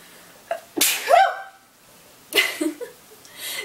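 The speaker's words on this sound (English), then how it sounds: "I feel like I'm gonna sneeze." A woman sneezes loudly and close, a sharp burst followed by a second breathy sneeze a moment later.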